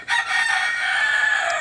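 A rooster crows loudly and close by, a single drawn-out call held for over a second.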